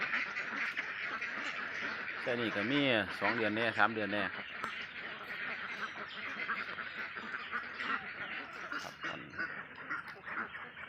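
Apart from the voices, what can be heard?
ducks quacking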